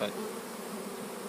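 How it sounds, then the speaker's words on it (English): Honeybees during a cone-extraction hive capture, a steady dense buzzing hum from many bees close by, continuous and even, with a brief spoken word at the start. "bees are now migrating from the hive entrance."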